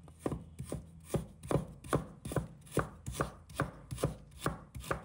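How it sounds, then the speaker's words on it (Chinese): A kitchen knife slices through ginger on a cutting board in a steady rhythm of about a dozen crisp, close chops, each a short thud, with no voices. "生姜切片"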